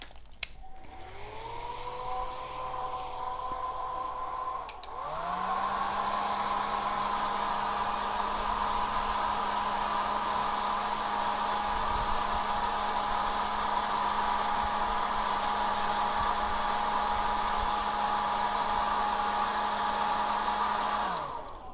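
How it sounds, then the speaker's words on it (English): A hair dryer blows steadily over a watercolor fruit bowl painting, a loud close whine that starts, shifts to a higher setting after a few seconds and runs on continuously with no voices. "Hair dryers are helpful tools."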